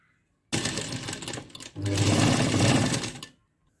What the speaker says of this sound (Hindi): यहाँ पर इससे लास्ट लाइन पर इसे बराबर रखते हुए सिलाई लगाएंगे हम।